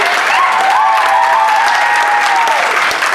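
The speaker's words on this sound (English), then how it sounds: "Give a round of applause for this crew." Audience applause and cheering for a swing dance crew at an intercollegiate Charleston battle, loud and steady throughout, with a whistle or whoop rising above the dense clapping.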